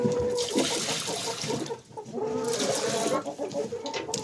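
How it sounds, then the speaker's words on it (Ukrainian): Chickens cluck and squawk steadily close by, several birds at once, with a soft outdoor background. "О! Курочки, виднюрочки."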